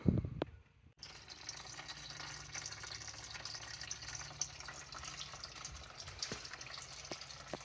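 Coolant pours steadily from the radiator drain valve of a Ford 4.6 V8, a continuous close splashing trickle that starts abruptly after a brief clunk and runs on without pause.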